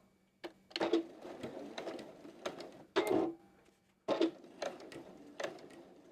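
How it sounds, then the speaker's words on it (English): A sewing machine stitches along the edge of a fabric bunny softie in short, stop-start bursts of rapid mechanical chatter, close and moderately loud with brief pauses between runs. "And now I'm just going to sew along that edge, closing it up."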